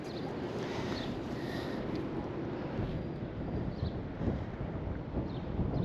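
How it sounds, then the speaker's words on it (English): Wind blows outdoors beside a ductless split air conditioner, a continuous heavy rumble of gusts buffeting the microphone, loud and steady with no voices. "that's wind right now"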